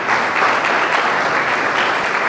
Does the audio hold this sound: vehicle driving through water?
no